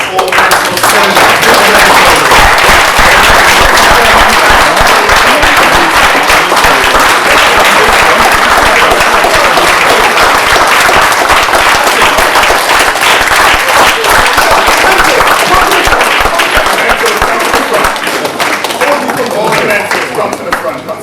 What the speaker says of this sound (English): Could I have a big round of applause for all the mentors?